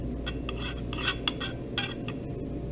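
A metal spatula scraping and tapping as it spreads warm buttercream frosting around the outside of a cake, light repeated clinks and scrapes over a steady background hum, no talking.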